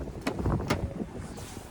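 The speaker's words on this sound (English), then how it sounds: "Let's go ahead and get out of this wind" Gusty outdoor wind buffets the microphone in a low, rushing rumble beside a 2024 Ford Edge ST Line, steady and fairly close for under two seconds.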